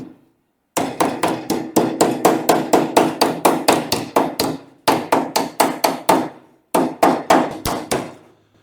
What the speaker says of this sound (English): Hammer and dolly.